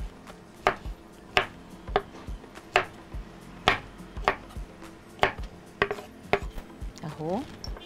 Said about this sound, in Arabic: ابتدي اشتغل على الثوم. هفريه زي ما انا بقول لكم